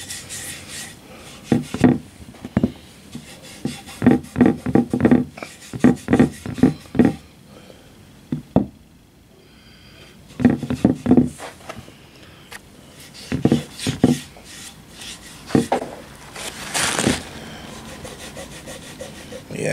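Paper is rubbed on wood for an ink transfer onto a sticker board plaque, giving repeated scratchy strokes in bursts with short pauses, close and fairly loud, with no talk.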